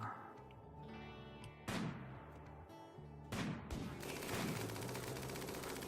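Rapid bursts of gunfire from the colony-sim game RimWorld, with dense crackling volleys, a couple of sharp louder shots near two and three and a half seconds, then sustained overlapping fire to the end.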